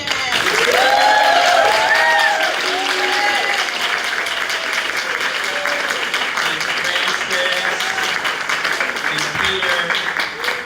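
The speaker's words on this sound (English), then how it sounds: "if we can please give her a big round of applause" An audience at a monthly meeting applauds for Jen Lowe, with loud continuous clapping and scattered cheers and whoops sustained for about ten seconds.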